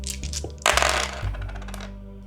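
Dice rolled in The Poltergeist Crew game, a bright rattling clatter of small hard objects tumbling and settling, close and brief over a low background tone.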